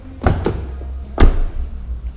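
A car rear door treated with Dynamat sound deadening gives a pair of quick latch clunks, then closes with one firm, muffled thump, close and short.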